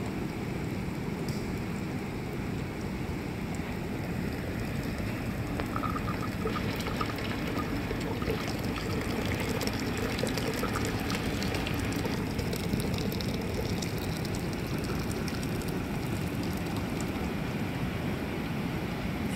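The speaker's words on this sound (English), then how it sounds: "I typically keep a small stream, a small steady stream" A small, steady stream of liquid runs from a Smoky Lake 2 x 4 Corsair maple syrup evaporator with a raised flue, giving a continuous close trickle and pouring wash that holds even throughout.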